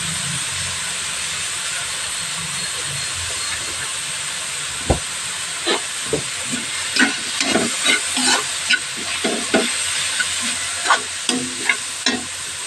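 Squash and string beans sauté in a pan with a constant sizzling hiss. Partway through, the pan gets repeated clanks and scrapes from stirring, spaced irregularly.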